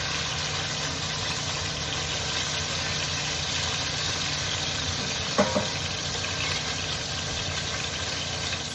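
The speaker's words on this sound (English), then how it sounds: "while your meat is browning" Meat browning in batches in a frying pan for a simple stew gives a steady, even sizzle that runs throughout, with a couple of brief clinks or taps near the middle.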